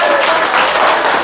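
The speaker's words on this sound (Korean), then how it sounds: "여러분들 박수치고 좋아할 일이 아니야" Brief, loud burst of clapping from a small gathering in a pocha bar in Daebang-dong, close by and dense, lasting just over a second with no speech.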